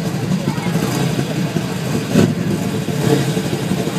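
A Chevrolet Camaro ZL1 revs at a hill race, a loud, close, throaty engine note that rises sharply in a couple of bursts, with an Italian commentator talking over it.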